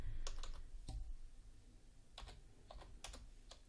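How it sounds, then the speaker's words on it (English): Scattered keystrokes on a computer keyboard, a few quick clusters of close clicks over a low steady room hum, with no voices. "So I'm just going to go ahead and type in up here"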